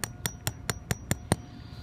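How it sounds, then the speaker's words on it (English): A Sandbaggy landscape staple with a 6-inch square top is hammered through ground cover into soil: seven sharp, evenly spaced strikes, close and crisp, with no talk. "So first we can push in as far as possible and then we'll hammer the rest."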